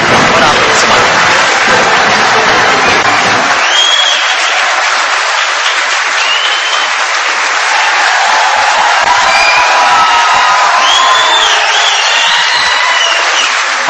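A large crowd at a Karachi gathering of the Takmeel-e-Pakistan movement breaks into sustained, loud applause and cheering, with whoops rising above the dense clapping throughout, while a voice speaks briefly at the start.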